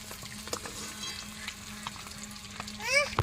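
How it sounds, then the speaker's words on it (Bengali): Onion and bay leaves fry in hot oil in a pan. A low, steady sizzle runs under light clatter, and a short high squeak rises near the end. "তেলটার মধ্যে দিয়ে দিই পেঁয়াজ তেজপাতা"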